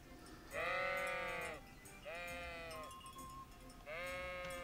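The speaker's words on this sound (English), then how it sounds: "So this should be the sheep" Sheep in the video game Kingdom Come: Deliverance bleat three times, loud and close, each call drawn out with a short pause between them.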